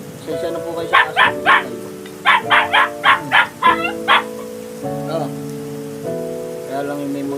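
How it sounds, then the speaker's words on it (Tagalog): A dog barks in two quick runs of several sharp barks, fairly close, over steady background music and voices. "Sensya na po kayo sa aso."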